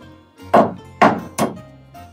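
Bolts are tapped loose from a horse trailer floor with three solid, hollow thunks spaced about half a second apart, close and loud against a quiet background.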